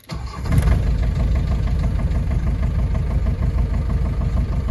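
A white Ford van engine cranks briefly and catches, then settles into a steady, rattling idle close by with no talk.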